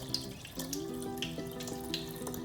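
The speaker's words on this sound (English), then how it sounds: "it's cooled, so we're going to add it to our water kefir here" Cooled ginger simple syrup made with sugar is poured into water kefir, giving a steady liquid stream with small splashes and gurgles, close and soft, with no talking.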